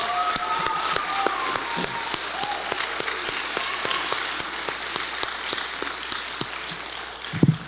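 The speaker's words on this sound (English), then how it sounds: "I would like to give them a round of applause, in addition to the wonderful parents as well." An audience at a graduation ceremony breaks into sustained applause, a dense, even patter of many hands clapping in a hall that holds steady for several seconds.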